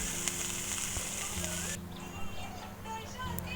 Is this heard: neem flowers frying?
yes